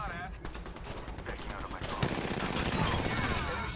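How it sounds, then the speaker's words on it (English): Rapid bursts of automatic gunfire from a battle royale video game rattle in quick succession, growing denser toward the end, with players talking faintly over them. "Firing. Getting shot at."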